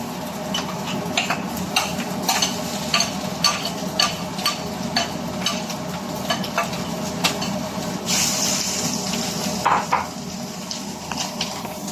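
Preserved mustard greens (meigancai) being stir-fried in a pan give off a steady sizzle, with repeated sharp clicks and scrapes of a spatula against the pan and a brief, brighter hiss near the end.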